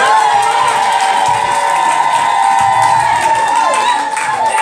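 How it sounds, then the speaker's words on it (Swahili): Church congregation at a Free Pentecostal service in Shinyanga, Tanzania, cheering and clapping, a dense, loud, continuous crowd roar with whoops and shouting throughout. "Bado nashangaa kuna mtu anaweza kushangilia Yesu hata dakika 5"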